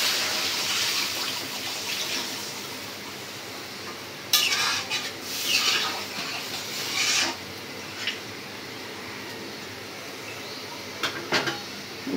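Water runs into a cooking pot of sautéed vegetables while prawn and fish curry dishes are prepared, giving a steady pouring wash with a few brief clinks and scrapes against the pot.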